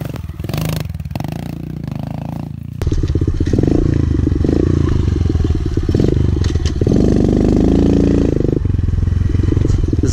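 A small motocross bike on a private motocross track is ridden wide open, its engine buzzing loud and close at high revs with clattering and scraping, after a quieter stretch at the start.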